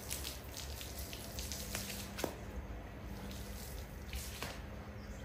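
Tap water running steadily into a container while preparing a dog's bath, a continuous splashing rush with a few brief drip-like clicks, close and fairly loud.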